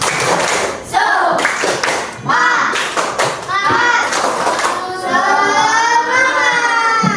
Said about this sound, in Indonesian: Coba kita yel-yel dulu. Tepuk semangat.